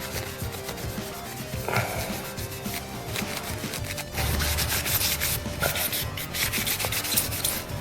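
Polish is rubbed into the scratched plastic casing of a Sega 32x, making close, continuous scrubbing and rasping strokes that shift in intensity with no voices.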